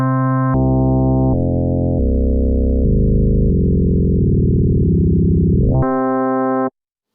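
Two sine waves in kernel FM on a Waldorf Quantum or Iridium synthesizer, a sustained harmonic tone whose timbre steps through several distinct settings as the modulation changes, then jumps back to a brighter, fuller sound before cutting off; loud, with no talking.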